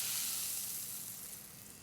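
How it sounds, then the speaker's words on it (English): A steady, bright sizzle of steak frying in a hot pan, close and continuous, slowly easing off over a couple of seconds. "There's nothing I enjoy more than cooking steak like this. The sizzle and the smells is just fantastic."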